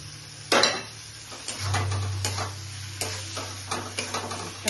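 Paneer pieces are dropped into a salted pan and stirred, giving sparse metallic clinks and scrapes over a faint sizzle and a steady low hum.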